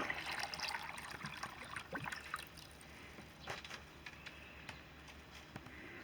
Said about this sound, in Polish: i wlejemy prawda, około litra i roślina sobie będzie stopniowo przez kilka godzin przyswajała tą wodę